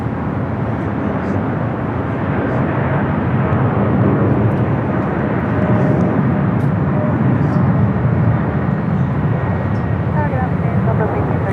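A Turkish airliner departing LAX for Istanbul produces a long, loud, unbroken jet roar that holds steady throughout.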